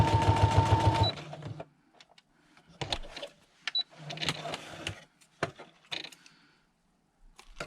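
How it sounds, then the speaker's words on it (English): A sewing machine runs in one loud, steady burst of about a second, stitching together two edges of avocado-dyed paper for nature ephemera, followed by scattered handling clicks and rustles. "So I'm just going to stitch these two edges, and then I'm going to put a backing on"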